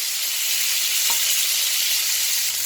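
Sausages fry in a pan for a fry up, giving a loud, even sizzle throughout with one brief clink near the middle.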